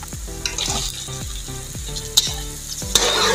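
Chicken frying with browned onions in a pan, a loud, close, continuous sizzle broken by repeated stirring scrapes and a couple of sharp utensil clinks, with no voices.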